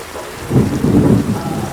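Steady monsoon rain pours down with a low rumble of thunder swelling beneath it, a continuous wash of storm noise with no voices.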